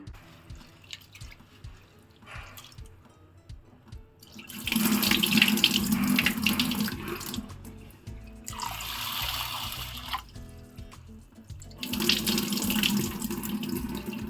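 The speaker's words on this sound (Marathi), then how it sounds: "एका टोपामध्ये मी हे साबुदाणे घेऊन धुवून ठेवते" Water pours and splashes in a pot in three bursts separated by quieter dripping and swishing, as sago pearls are rinsed by hand.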